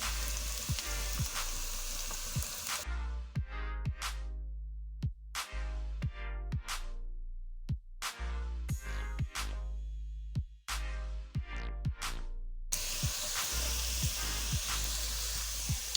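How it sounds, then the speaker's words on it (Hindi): Onions frying in a pan until golden, a steady close sizzle with short bursts of stirring or scraping partway through and no talking. "ये प्याज को हम गोल्डन कर रहे हैं, इसे हम ज़्यादा डार्क कलर नहीं देंगे।"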